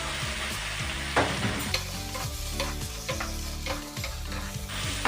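Fried vegetables tipped into a sizzling, cooked-down spice paste in a pan for shukto, a steady loud sizzle with stirring and scraping throughout.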